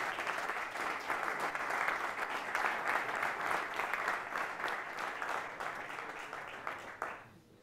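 A church congregation applauds during a men's convention service, a thick, continuous roll of many people clapping, steady and close, holding for about seven seconds before cutting off quickly.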